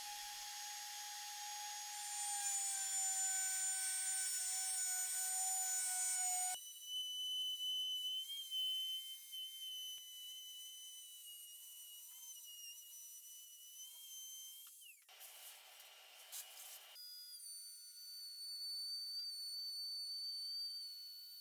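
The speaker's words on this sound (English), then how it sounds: "I'll grab my router and bottom out the bit to find my 0" A plunge router cuts a quarter-inch-deep track in wood for a tambour door cabinet. A steady, high motor whine holds, drops in pitch, then shifts again through a short burst before settling into a constant whine, with no talking.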